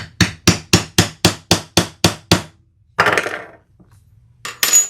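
Hammer striking a rivet on a sewing project, nine sharp evenly spaced taps close up, then a short rustle and one more clatter after a pause.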